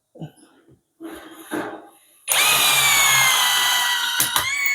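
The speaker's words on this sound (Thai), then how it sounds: "ทีนี้ก็ลองเจาะไม้ดูนะครับ" An OSUKA OSID-520 electric impact driver drills into hardwood, a loud steady high motor whine after a few quiet knocks and handling sounds, with brief rattling bursts near the end.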